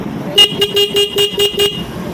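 A car horn wired through a relay honks in a series of short, loud blasts, about six beeps in quick uneven rhythm, close by with no talking.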